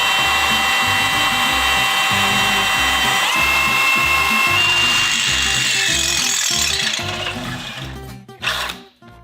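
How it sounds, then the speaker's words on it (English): A drill press bores into a metal sway bar mount with a loud, close, continuous whine and rhythmic grinding chatter, the bit squealing higher partway through before the motor winds down at the end. "I'm gonna drill it with my drill press"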